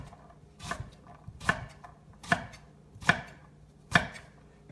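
Five sharp knife chops on a cutting board through a vegetable, slicing down at an even thickness, spaced about once per second, close and crisp with no talking.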